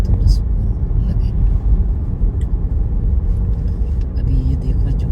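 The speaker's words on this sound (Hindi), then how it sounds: "अभी ये देखो जो गाड़ी गई है वो कितने क्लोज कॉल पे गई है" At night on a UK road between Northampton and Daventry, a car passes with a low rumbling road roar, heard from inside a moving vehicle while a person talks over the engine and tyre noise.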